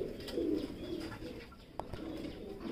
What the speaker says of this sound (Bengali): এটা কি কবুতর দেখছি আমরা?